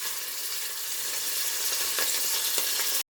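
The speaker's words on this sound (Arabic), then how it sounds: "We will fry the meat a little." Meat frying in a pot for Iraqi butternut squash soup, a dense steady hiss of sizzling fat with faint crackles and soft stirring taps, close up, ending abruptly.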